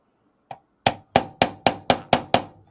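Metal hammer strikes driving parts into place: a light tap followed by six sharp, evenly spaced blows in quick succession, close and clear against a quiet background.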